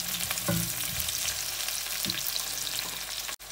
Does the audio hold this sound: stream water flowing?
no